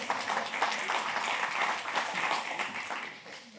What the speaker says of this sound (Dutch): Ja, volgens mij is dat een applaus